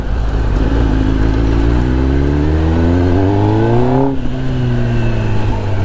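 Kawasaki ZX-10R sportbike with a new aftermarket exhaust, loud and close, climbing steadily through the revs before a sharp shift-like dip and renewed pull.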